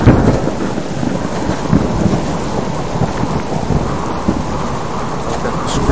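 A thunderstorm with steady heavy rain in the survival game Subsistence, a dense unbroken hiss of downpour with low rumbling thunder rolling underneath, loud and close throughout.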